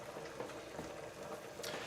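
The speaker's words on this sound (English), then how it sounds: "if you're hearing the bubbles" Water bubbles softly and steadily in a container, a faint, close gurgle with no one talking over it.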